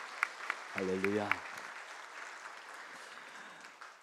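A Korean church congregation at a Christmas service claps in a steady, moderately loud wash of applause after a brief exclaimed word from a single voice.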